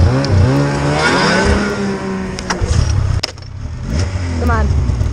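Snowmobile engines rev and whine in rising and falling pitch, loud and close, with a second sled roaring up near the end while people talk over the engines.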